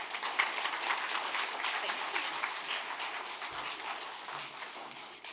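An audience at a workforce development summit in the Virgin Islands claps steadily, a dense, fairly distant burst of applause that keeps going before tapering slightly at the end.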